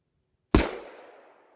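A single 7mm-08 Ruger Compact rifle shot firing a 120 grain all-copper solid bullet, heard as one sharp, loud crack after silence that rings out and decays over about a second.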